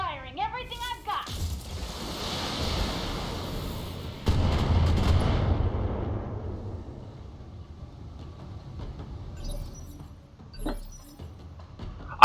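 A BattleTech mech unloads all its weapons at once in the video game, a heavy booming barrage with a long rumbling roar that swells, then a second blast before fading into a low lingering rumble, with voices in between.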